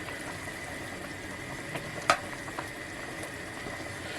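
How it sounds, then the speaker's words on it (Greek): Octopus simmering in a red wine sauce in a pot, a steady soft bubbling hiss running throughout with one brief clink or tap near the middle. "Θα το αφήσουμε τώρα 5 λεπτάκια όπως είναι να συνεχίσει το βράσιμο"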